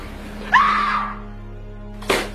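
A woman in a film scene lets out a sudden loud scream that trails off over about half a second, followed by another sharp burst of screaming near the end.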